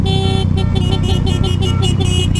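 Car horns honk at a wedding convoy of cars including AMGs, Panameras and Lamborghinis, a loud, sustained blare with rhythmic pulsing toots layered over engine rumble.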